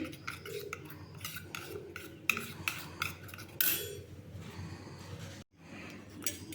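Spice paste is mixed with water in a bowl for a pumpkin chhokka recipe, a spoon scraping and clinking steadily against the bowl, close and fairly quiet, with one brief silent break near the end.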